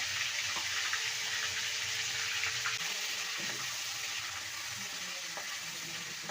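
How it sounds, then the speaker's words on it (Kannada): Three spoons of homemade ginger-garlic paste frying in oil for a spicy chicken gravy: a loud, steady sizzle and crackle throughout, with faint scraping and stirring knocks scattered through it. "ಹಾಕ್ಕೊಂಡು ಎಣ್ಣೆಯಲ್ಲಿ ಚೆನ್ನಾಗಿ ಫ್ರೈ ಮಾಡಬೇಕು"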